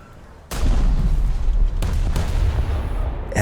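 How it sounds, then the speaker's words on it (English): Naval guns of the Italian heavy cruiser Trento fire in World of Warships, a sudden loud boom followed by a sustained rumbling roar, with a second blast about a second later. "there's just a nice pace between secondary fire and main fire"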